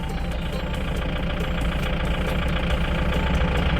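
A 2020 Kubota L5018DT tractor engine runs steadily while driving the rear PTO, a continuous low, rumbling diesel drone with a rapid knocking pulse, loud and close with no talking.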